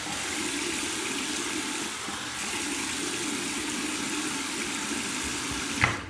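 Cold water pours steadily from a tap over a Gillette Skinguard razor, a continuous close splashing rush with a brief clatter near the end.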